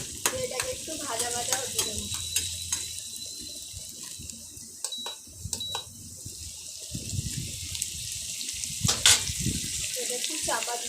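Chopped onion frying in hot oil, a steady soft sizzle running throughout with occasional stirring clinks and scrapes, close and moderately quiet.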